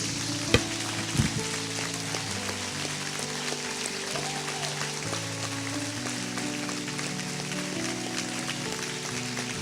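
A church congregation applauds, producing sustained, dense clapping that holds steady throughout like rain on a surface, with a couple of sharper claps near the start and a faint hum of organ or keyboard underneath.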